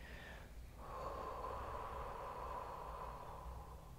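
A single long, deep breath drawn in and slowly released close to the microphone, a soft airy rush that swells and holds steadily, with no talking.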